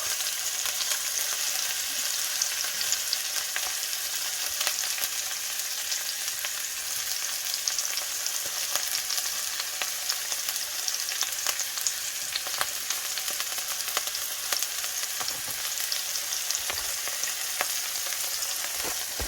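Seasoned rice with ackee and saltfish sautés in a pan over a medium flame, giving a continuous, even sizzle with faint crackles for the whole stretch and no voices.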